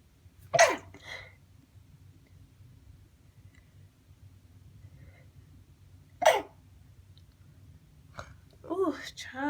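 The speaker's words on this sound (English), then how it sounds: "I had to sneeze. And I feel like it's coming on again." A sharp sneeze bursts out, followed later by a second sneeze and some soft breathy vocal sounds in an otherwise quiet room.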